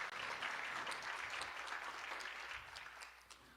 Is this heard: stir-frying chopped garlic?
no